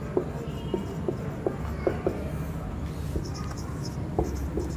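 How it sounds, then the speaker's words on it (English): Notes are written by hand with a pen on paper, giving soft close scratches in an irregular rhythm over a quiet room hum, with no talking. "first I'll write down the points"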